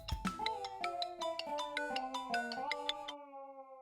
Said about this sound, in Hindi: देख, फोन आ गया। फोन।